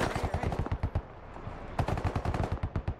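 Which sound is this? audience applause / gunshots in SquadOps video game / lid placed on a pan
gunshots in SquadOps video game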